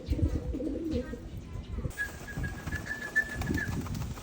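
Free-flight pigeons coo softly while wings flap in short bursts, with someone talking over them and a thin whistle-like tone entering partway through.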